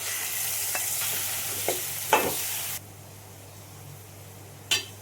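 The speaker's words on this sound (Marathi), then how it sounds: "आता हे जे मासे आहेत मी मसाला लावून ठेवल्यात ते सोडते यामध्ये" Masala-coated fish drops into hot oil seasoned with red chili powder, giving a steady close sizzle with a few sharp pops and crackles that settles to a quieter hiss, with one more crackle near the end.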